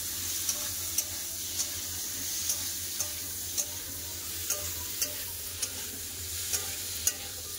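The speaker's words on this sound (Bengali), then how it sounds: "দিয়ে দেবো আলু, কাঁঠাল সিদ্ধ করা কাঁঠাল বিচা। এগুলো একটু ভালো করে আগে ভেজে নেবো।" Potatoes and boiled jackfruit seeds frying in a pan after tempering, a constant hissing sizzle broken by regular light spatula taps, roughly one every half second.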